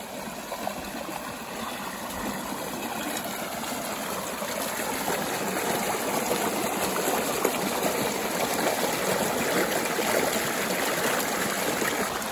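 A small stream flowing under a small bridge, with a steady, unbroken rush and trickle of water that stays close and even for the whole stretch, and no voices.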